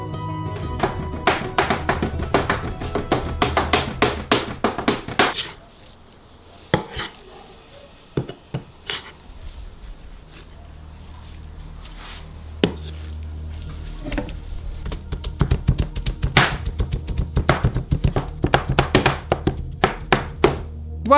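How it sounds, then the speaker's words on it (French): Two small hatchets mince sturgeon meat on a board, rapid rhythmic chopping thunks in bursts, pausing briefly mid-way before resuming in quick close repeated strikes. "Avec 2 petites hachettes, faites de la viande hachée."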